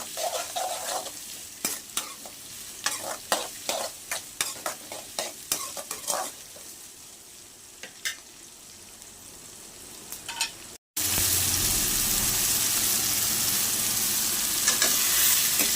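Onions and tomatoes fry in oil for chicken curry with a rhythm of spoon scrapes and stirring over a steady sizzle that swells into a loud, dense hiss near the end.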